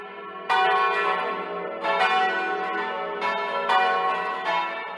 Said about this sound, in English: The bells in action are a sight to behold.